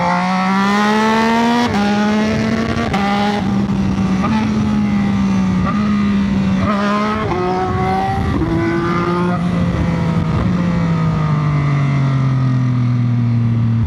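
Yamaha R9 motorcycle engine revving and shifting up through the gears, each rising pitch sweep broken by a gear change, then a long falling pitch as it backs off, loud and close throughout.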